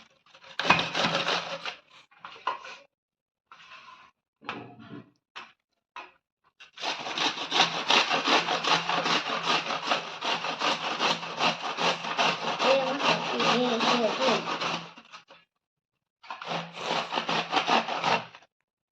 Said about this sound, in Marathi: आपले कोबी पूर्ण किसून झाले आहे